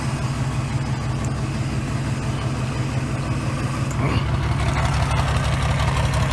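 A 1990 Four Winns 180 Horizon boat with a 4.3 OMC Cobra engine idles in gear with the prop engaged, giving a steady, close, throbbing low rumble that rises slightly partway through.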